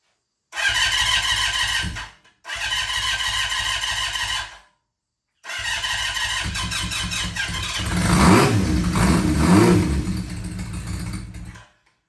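An engine cranks in two short bursts, pauses, then cranks again and fires after its fuel was shut off because of a leak, catching into a rougher running rumble with rising revs before cutting out.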